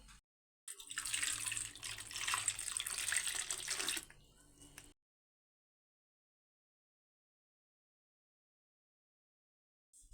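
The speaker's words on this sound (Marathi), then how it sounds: "सुरुवातीला आपल्याला ह्या कैऱ्या स्वच्छ अशा धुवून घ्यायच्या आहेत" Tap water runs steadily over two large raw mangoes as they are washed at a kitchen sink, a loud continuous splashing rush that stops abruptly, followed by silence.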